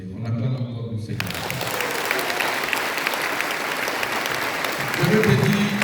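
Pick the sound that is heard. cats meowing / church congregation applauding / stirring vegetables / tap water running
church congregation applauding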